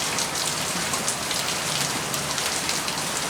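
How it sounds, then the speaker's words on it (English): Heavy rain pours down in a dense, continuous hiss, loud and close, with no voices or other sounds breaking through. "Ooh, it's raining so hard."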